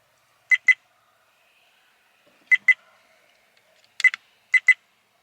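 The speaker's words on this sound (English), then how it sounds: "It keeps beeping, but I don't know why." A Viofo A129 Plus Duo dashcam fitted in a 1957 GMC truck gives short, clear electronic beeps in quick pairs, four pairs spaced across a near-silent background with no voices.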